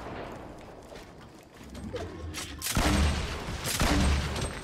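Gunfire in the Fortnite video game, a sniper rifle among the shots: quiet mixed game noise gives way to two loud, sharp reports with booming low tails about a second apart.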